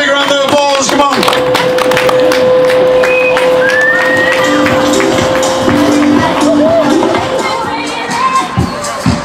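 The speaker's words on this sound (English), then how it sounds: "Come on, folks, give him a big, big round of applause" A shop crowd at a supermarket opening attended by an Olympic hockey medalist claps and cheers, busy and loud throughout, with children shouting, voices talking over it and a whistle-like tone drifting through.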